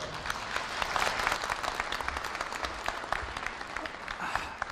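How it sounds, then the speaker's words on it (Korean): A large audience at a university graduation ceremony claps in sustained, dense applause, steady and fairly loud from start to finish with no talk over it. "정세균 선배를 뜨거운 박수로 환영해 주십시오"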